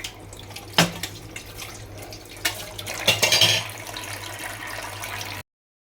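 Dishes being rinsed under a running tap at a sink, with water splashing and clattering in bursts, strongest near the end, and no talk.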